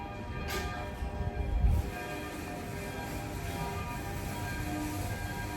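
Church bells ring steadily in the distance, their tones sustained and overlapping beneath a constant wash of outdoor ambience.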